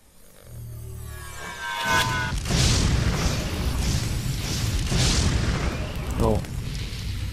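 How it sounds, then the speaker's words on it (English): Booming explosions and a continuous roar of gunfire fill a fantasy action game scene as enemies attack the player, with a pinging effect near the end and a voice talking briefly. "Still randomly shooting at me."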